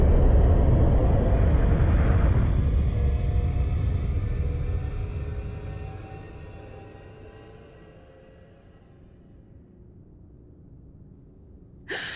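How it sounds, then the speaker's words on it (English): A deep rumble of a craft departing, loud at first and steadily fading over several seconds into a quieter low drone, ending with a sharp brief burst, no talk. "We will be departing in 5, 4, 3, 2, 1."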